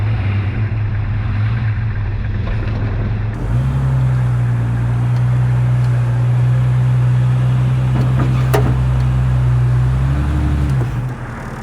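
A Jeep XJ on a test course drones loudly and steadily, its engine note rising and holding a sustained pitch as it pulls along, then easing off near the end, with no talk.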